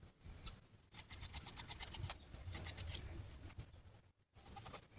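Scissors snip through fabric while a sleeve is cut out for a sewing project, giving close, quiet bursts of rhythmic crisp cutting strokes separated by short pauses.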